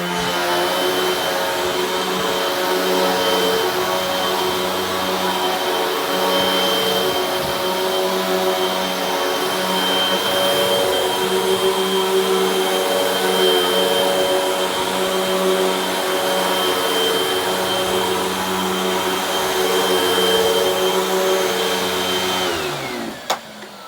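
A bagless vacuum cleaner runs steadily for the whole stretch during a deep clean test, a loud, continuous motor whine with a sustained high tone that cuts off abruptly at the end.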